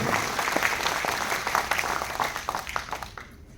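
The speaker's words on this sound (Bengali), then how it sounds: "একবার জোরদার হাততালি নিজেদের জন্য" Applause from a hall audience cheering themselves at a corporate programme event, dense steady clapping that holds throughout and thins toward the end.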